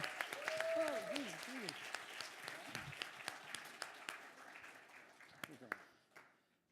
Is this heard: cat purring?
no